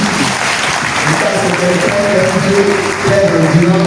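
A church congregation at a charismatic renewal gathering applauds in a steady, dense wave of clapping that lasts throughout, with voices rising and mingling underneath.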